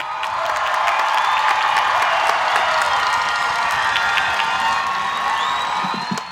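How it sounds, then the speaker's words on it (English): A large outdoor crowd at the Moreno Valley High School 2025 graduation claps and cheers for the graduating class, a dense, sustained wash of applause with scattered whoops and shouts from start to finish. "Let's give the class of 2025 another big round of applause."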